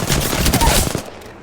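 Apex Legends gunfire crackles in a quick, loud burst of rapid shots up close, then cuts off into a fading tail after about a second.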